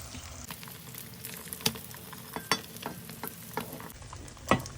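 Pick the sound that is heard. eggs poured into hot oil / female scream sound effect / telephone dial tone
eggs poured into hot oil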